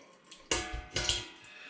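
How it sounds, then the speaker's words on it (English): Juice dripping from apple pulp pressed through a ladle-fed press during cider making, heard as two short wet splashy bursts with faint trickles between, close and fairly quiet. "All the juice begins to drip out."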